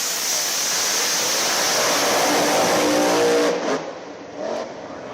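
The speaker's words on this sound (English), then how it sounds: "This was one of the loudest races of the weekend." Drag race cars roar loudly down the strip, a sustained wall of engine noise that holds steady before cutting off sharply near the end, leaving a fainter rolling sound with a brief swell.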